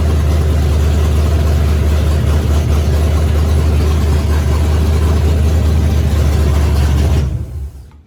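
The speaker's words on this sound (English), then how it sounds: "So I gotta work on the idle." A 1968 Ford F-100 truck engine idling, a loud steady low rumble running close and continuous before it shuts off and fades out near the end.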